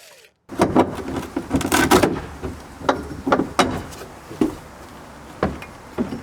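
A power drill backing screws out of wood deck boards gives short, loud whirring bursts in an uneven rhythm, with creaks and cracks as the wood strains, and no one speaking.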